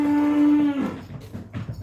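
Swiss breed cows and heifers in a farm pen, one loud close moo sustained for under a second, followed by quieter lowing and shuffling from the herd.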